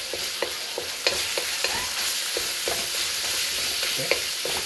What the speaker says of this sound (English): we're basically going to saute the ground pork with the flavor of the ginger and the garlic